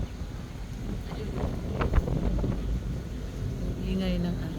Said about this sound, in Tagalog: Ang ingay ng ano, ng hampas ng hangin.